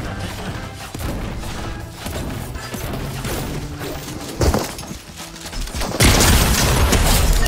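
Gunfire in Fortnite Chapter 3 Season 3, a sustained loud clatter of shots and crashing impacts that surges louder near the end, with no talk over it.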